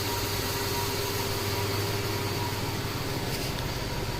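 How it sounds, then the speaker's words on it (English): A 2007 Ford F-150 pickup with a 4.6L V8 idles steadily and evenly nearby after misfire and ignition repairs, a constant low rumble with a faint whine, no voices. "You can hear how nice the truck's running now."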